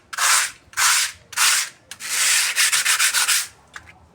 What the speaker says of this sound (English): Now what we're gonna do, we're gonna take some sandpaper here